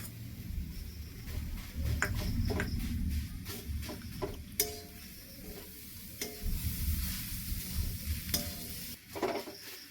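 Jaggery is stirred into sugar in a hot pan, a soft steady sizzle with repeated scraping and tapping of the spoon against the pan at close range.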